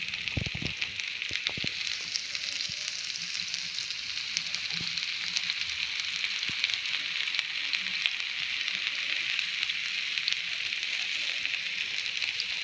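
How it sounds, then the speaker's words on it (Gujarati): Cauliflower florets fry in oil for a spicy masala snack, a steady bright sizzle with scattered pops and a few clatters early on, moderately close, no speech. "આ રીતે આપણે બધા જ ફ્લાવરના પીસને એડ કરી અને એને સારી રીતે બંને તરફથી આપણે એને ફ્રાય થવા દેવાના છે"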